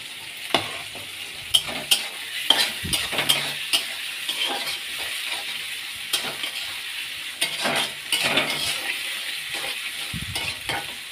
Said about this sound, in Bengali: পেঁয়াজটা একটু লাল লাল করে ভাজবো।